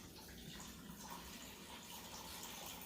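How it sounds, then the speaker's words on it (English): A can of chicken broth pours into a crock pot over chicken, a soft, steady gush of liquid, faint and continuous, with no talking. "I'm going to take the chicken broth and I'm going to pour that in next, right in the crock pot"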